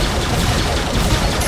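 Gunfire in the Crusaders of Space Open Range game, a loud, dense, continuous burst of rapid shots filling the whole moment without pause.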